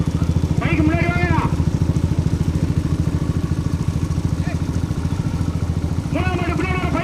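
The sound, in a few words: motorcycles at a procession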